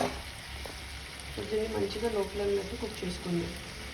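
Chicken frying in a pan over a low flame gives a steady soft sizzle, with a person talking over it for much of the time.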